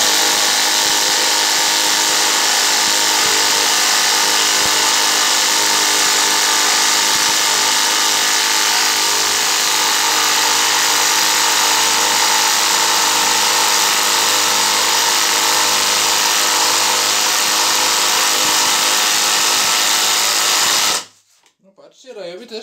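A Ryobi cordless impact driver runs in one long, loud, steady whir for about twenty seconds while tightening, then stops abruptly, leaving near silence.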